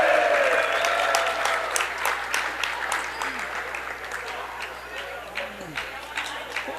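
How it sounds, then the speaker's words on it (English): Crowd at a girls' basketball game cheers and claps for the referee, loud at first and slowly fading over several seconds, with a commentator talking over it. "the referee gets a big cheer from the crowd as he had untangled the net"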